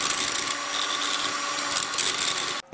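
A harsh, steady high-pitched grinding whine of a power tool cutting through a metal CV driveshaft joint, loud and continuous, cutting off abruptly near the end.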